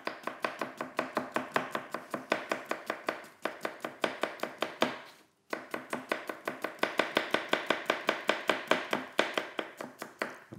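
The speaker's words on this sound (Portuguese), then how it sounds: "Deve picar tudo muito bem picadinho" Vegetables for gazpacho are finely chopped with a knife on a board, a fast, even run of sharp close taps with one brief pause midway, clear and alone.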